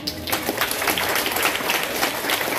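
Audience clapping at a Balinese arja dance-drama performance in Ubud, a loose burst of many hands with individual claps standing out, moderately loud and continuous.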